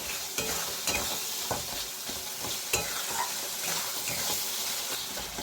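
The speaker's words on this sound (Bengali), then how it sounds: "মশলাটা আমি ভালো করে কষাই নেব যত সময় গা থেকে তেল না বেরিয়ে আসছে" Masala spice paste with tomato fried and stirred in a pan until the tomato melts and the oil separates, for a fish-head and gathi kochu curry: a steady close sizzle broken by repeated scraping strokes of the spoon, no voices.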